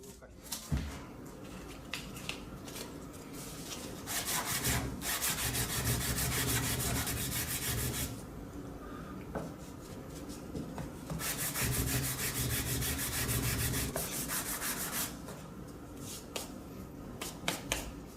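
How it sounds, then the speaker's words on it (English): Sandpaper rubbed along the grain of a wooden piece for a circular xylophone, heard as two long, steady scratchy passes of a few seconds each, separated by quieter gaps with a few light taps. "Move the sandpaper in the direction of the grain."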